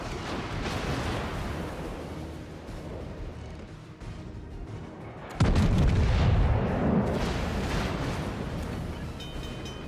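Warship gunfire in the naval video game World of Warships, heavy booming salvos with a rumbling roar, building into a loud sustained blast midway through, with no talk over it.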